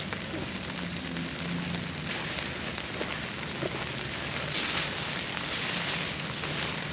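Steady rain patters down over a farm field during a harvest in stormy weather, a dense, even hiss of drops on surfaces that holds constant throughout at moderate loudness, with no voices.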